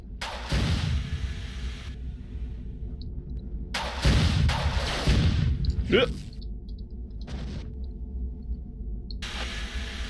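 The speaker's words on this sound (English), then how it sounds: "I'm only using rockets because I know there's that room back there that has a lot of rocket bullets" Rocket launcher fire in the 1995 shooter Marathon 2: Durandal, with loud broadband whooshing bursts that start and cut off abruptly over several seconds, one with a rising swoosh, under steady game ambience while someone talks.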